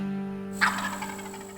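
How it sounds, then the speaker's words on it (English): A single rattling wild turkey gobble rings out from far off, faint and brief, over a steady low hum. "I just heard it sound like two birds gobble."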